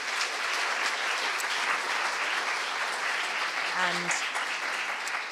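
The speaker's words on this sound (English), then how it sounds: "give warm rounds of applause" Conference session audience applauding, a dense, steady wash of clapping from a large crowd in a hall, with a voice briefly speaking near the end.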